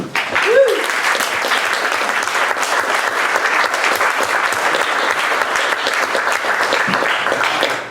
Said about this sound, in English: We have another round of applause.